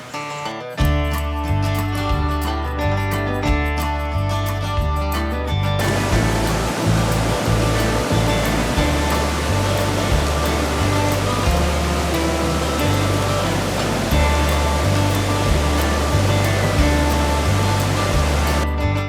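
The Middle Fork of Applegate Creek rushes with a loud, continuous broadband roar of flowing water, partly under rhythmic background music.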